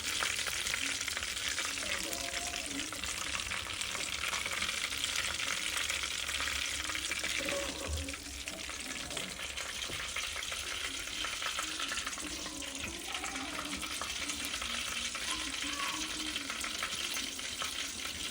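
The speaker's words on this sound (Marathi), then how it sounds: "आपले वेफर्स तळलेले आहेत तर आता आपण हे काढून घेऊयात" Raw banana wafers crackle and sizzle steadily in hot oil on a wood-fired stove, with scraping of a slotted spoon as the slices are lifted out and drained; no talk.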